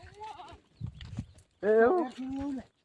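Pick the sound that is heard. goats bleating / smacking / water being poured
goats bleating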